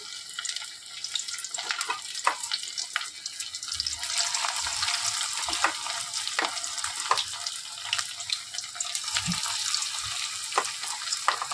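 Pakoras deep-frying in hot oil in a home kitchen give a continuous close sizzle, broken by sharp clinks and scraping knocks and a faint running-water wash, with no voices.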